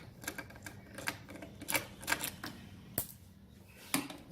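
Quick ratcheting clicks come in short uneven bursts as 8mm screws are backed out of the side plastics on a Kawasaki KLR 650, with a small extension on the tool, close and crisp with no voices.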